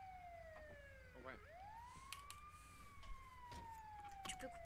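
A wailing police siren sweeps up and down in pitch, fairly faint and distant, with low engine rumble and a few brief clicks and voices beneath.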